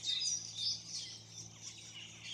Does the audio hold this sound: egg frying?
no